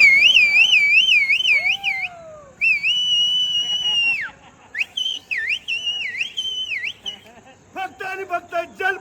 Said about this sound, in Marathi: शिट्टी.